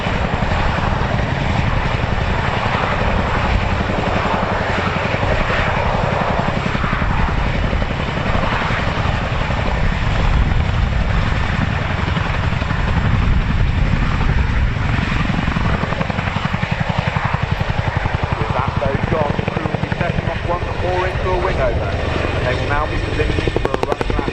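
A fighter jet performing at the RAF Cosford Airshow 2025 gives off a loud, sustained roar that fills the whole stretch. A commentator talks over the engine noise throughout.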